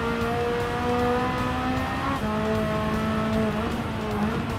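A Ferrari F8 Tributo in Gran Turismo 7 sliding under the handbrake, its engine holding a steady droning tone through a sustained tire squeal, with a brief dip and pitch shift midway.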